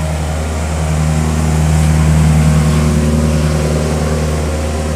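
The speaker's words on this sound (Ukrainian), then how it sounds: "А ось їде такий паровозик, на якому катаються люди." A small road tourist train drives along the beach promenade at Golden Sands, Bulgaria, its engine a loud steady close hum and drone that swells slightly as it passes, with no speech.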